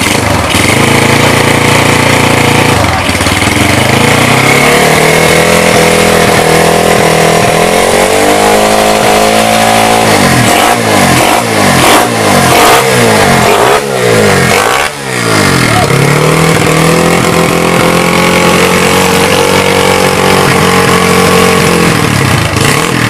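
Yamaha Jupiter Z motorcycle on a standard exhaust starts and idles loudly, then its engine is revved repeatedly in sharp rising bursts before settling back to a steady idle, close and dominant throughout.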